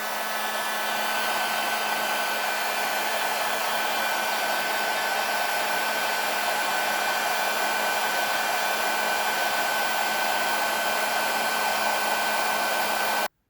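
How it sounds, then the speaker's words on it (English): A heat gun blows hot air to shrink heat-shrink tubing over car wiring during an electrical repair, a steady, loud, continuous whoosh with a faint whine, holding unchanged for about thirteen seconds and stopping abruptly, with no talking. "I'm going to use my heat gun and I'm going to shrink that"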